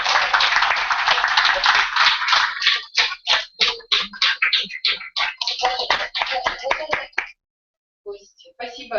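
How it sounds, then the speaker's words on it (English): A small audience claps at the close of a session on teaching civil servants. The hand claps are dense at first, then thin into separate claps, stop briefly and pick up again for a few final claps. "applause for your time"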